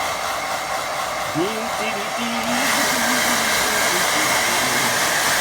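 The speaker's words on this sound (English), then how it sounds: "quick blast with the hairdryer" A hair dryer blows with a steady airy roar that grows louder partway through, while a voice talks briefly over it.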